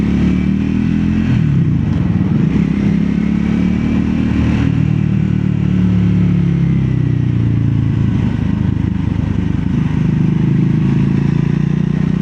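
A Triumph Classics-line Scrambler 400 X motorcycle being ridden on a road, its mid-pitched engine droning steadily and loudly throughout with wind rush and no talking.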